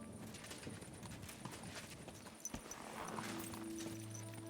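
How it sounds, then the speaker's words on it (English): Rhythmic clip-clop of horse hooves trotting close by in Kingdom Come: Deliverance II, steady and continuous, with a low hum rising underneath toward the end. "Your horse nearly trampled me!"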